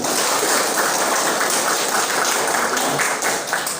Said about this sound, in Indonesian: Ya, yang lebih meriah lagi, tepuk tangan.